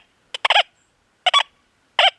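A Deus 2 metal detector gives a two-way target signal: three short, bright, warbling electronic chirps in quick bursts spaced by silence, close and clear with no talking.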